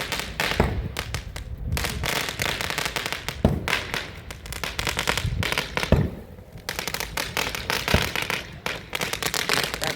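A string of fifty firecrackers crackles and pops nonstop at an Uttarayan celebration in Surat, punctuated by occasional louder bangs, a dense, close string bursting for the full stretch.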